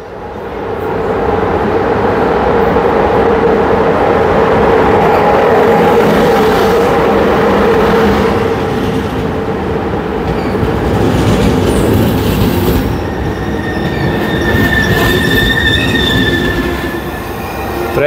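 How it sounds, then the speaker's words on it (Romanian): A train passing through the Prahova Valley near Sinaia in summer, loud and close, with a steady rolling rumble, rhythmic wheel clatter and high squealing from the wheels building in the latter part, no voices. "Haide că vine trenul!"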